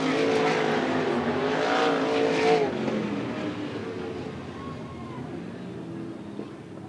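Sprint cars of the Interstate Sprint Car Series racing at Willamette Speedway, engines roaring and revving as they pass, then fading into a distant drone, with a track announcer faintly under the noise.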